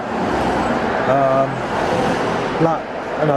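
Road traffic with cars, vans and a motorbike passing along a street, a steady nearby roar of engines and tyres with a couple of louder passes, while a person talks over it throughout.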